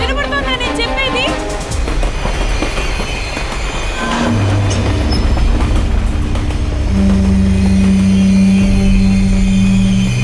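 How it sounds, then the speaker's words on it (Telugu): A train rolls into a forest area in a film scene, its steady rumble and rail noise filling the clip under a music score, with sustained low tones swelling in the second half. "ట్రైన్ ఇప్పుడు ఫారెస్ట్ ఏరియాలో ఎంటర్ అవుతుంది."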